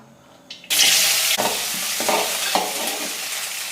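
Green chili and capsicum hit a hot pan and burst into a loud, steady sizzle of frying, with a few stirring scrapes punctuating the crackle; no one speaks.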